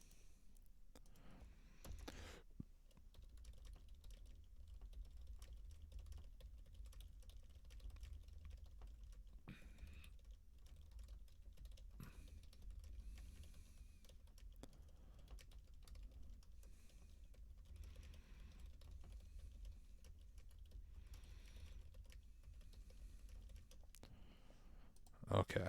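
Quiet computer keyboard typing while notes are taken during a HackTheBox hacking session, soft scattered key clicks running throughout at low level, with a few louder bursts near the end.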